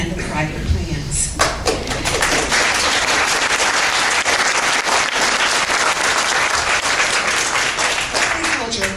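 A town hall audience applauding, a loud, dense wave of clapping that starts abruptly and holds steady for several seconds, with a voice audible at the start.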